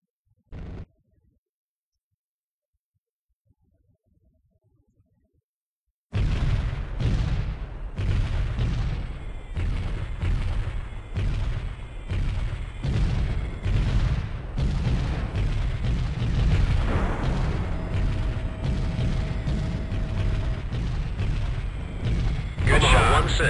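Helicopter gunfire and explosions in the Comanche 3 Gold combat game: one short blast, then after a quiet gap a loud sustained barrage of rapid booming shots and detonations over a constant rumble.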